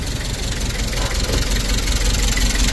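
A 1997 Toyota Hi-Ace van engine idling close up, a loud, steady, even rumble that holds without change and has no voices over it.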